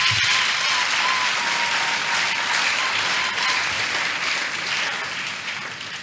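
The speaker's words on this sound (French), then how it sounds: "Tu peux acclamer, tu fais bien." A church congregation applauds steadily, a dense wash of many hands clapping that fills the room and slowly tapers off near the end, with no speech over it.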